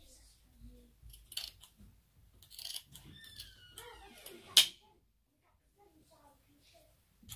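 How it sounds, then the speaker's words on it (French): Scissors snip through red fabric to trim the excess from a cloth face mask, a few close, crisp cuts with one sharp snip standing out, while a voice talks quietly in between. "Maintenant, je vais couper cette partie qui sort du tissu rouge."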